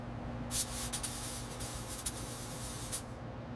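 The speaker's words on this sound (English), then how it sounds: "All right, primer coat's going on." A spray gun lays a primer coat on the body of a 1969 King Midget car, a broad continuous hiss with a few brief brighter bursts on top, close and steady throughout.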